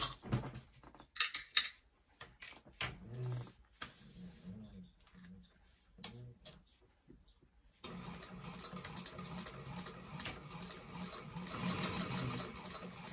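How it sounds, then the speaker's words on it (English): A sewing machine runs steadily from about the eight-second mark, top stitching along the top edge of a fabric bag, after scattered handling clicks and thumps. "I'm going to top stitch all along that top"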